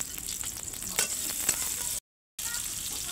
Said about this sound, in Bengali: তো দেখেন আমি পেঁয়াজ দিয়ে দিলাম, কাঁচামরিচ সব কিছু অল্প অল্প করে রসুন পেঁয়াজ দিয়ে নেবো।